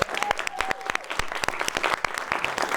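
Scattered audience clapping at a live evening show, individual sharp claps distinct and fairly close, with a faint tone and a few voices in the background.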